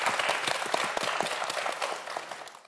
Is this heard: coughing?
no